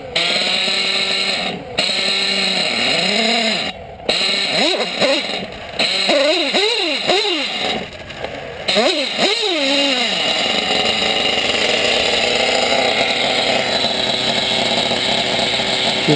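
Engine of a homemade vehicle cranks and fires, revving in several rising and falling bursts before settling into a loud, steady running drone, close by and alone.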